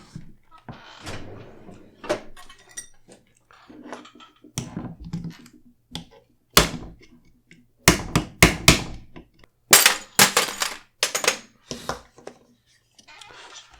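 The pivot pin of a new Beretta PMX pistol is forced out with a series of sharp metallic taps and knocks, sparse at first and then in quick bursts, with brief talk between them.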